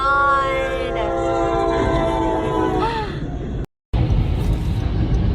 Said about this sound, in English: This train moved along the line near Mauriceville